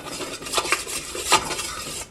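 Flour being mixed into butter in a soup pot, soft scraping and stirring taps of a utensil against the pot with a faint sizzle underneath, close and brief, no talking.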